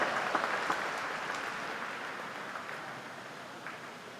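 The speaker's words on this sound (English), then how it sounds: "Everyone give her a big round of applause." An audience at the Aon NZ Open swimming championships applauds a new S9 50 metres freestyle world record, a dense, distant wash of clapping in a large pool hall that slowly tapers.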